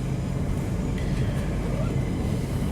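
A train stands at a railway station platform, giving a steady, loud low rumble that fills the scene without a break.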